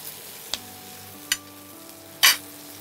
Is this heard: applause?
no